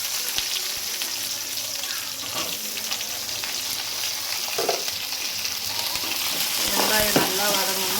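Onions fry in a pan for a spicy chutney, giving a loud, continuous close sizzle with occasional stirring scrapes and small clinks.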